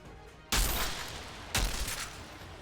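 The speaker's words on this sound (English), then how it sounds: "How are you shooting me through a wall?" Two heavy gunshots in Outriders, each a sharp loud blast about a second apart that trails into a long roaring decay.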